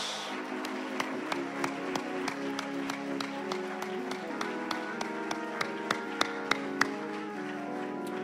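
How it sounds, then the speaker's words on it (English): A church congregation claps in a steady, rhythmic beat, with sharp regular claps over a sustained background of music and voices, the claps growing slightly sharper toward the end. "Now clap your hands to the Lord and give God the praise."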